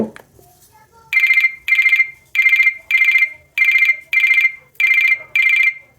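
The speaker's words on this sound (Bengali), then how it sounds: "প্রোফাইলে ঢুকলেই কিন্তু থাকবে রিংটোন যে সেটিংসটা আমরা এখানে রিংটোনটা চেক করব" Ringtone of a 5 Star BD140 feature phone: a bright electronic trill repeating in eight even bursts with short gaps, loud and close, after a quiet start.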